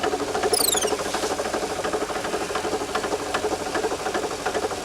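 A blown car engine with 130,000 miles keeps up a steady, rapid knocking and rattling, loud and close, with no talk over it.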